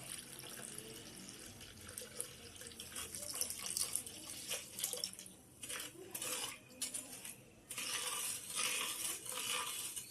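Liquid is poured into a container and stirred, with clinking and splashing against the vessel, close and moderately loud throughout, with no talking.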